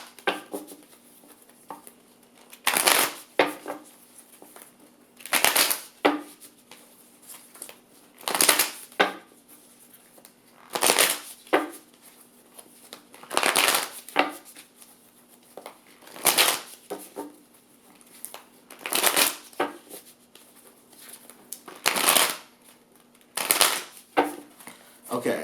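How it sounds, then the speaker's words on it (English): Tarot cards are shuffled by hand in repeated bursts of riffling and sliding, close and fairly quiet, with short pauses between shuffles over a faint steady hum. "So I'm going to shuffle some cards about the status of their marriage at this time."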